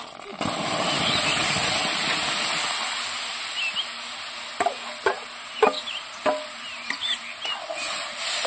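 Raw-ripe mango paste going into a kadai and being stirred, first a soft wet rushing scrape, then a run of sharp spoon taps and scrapes against the pan, close and fairly loud.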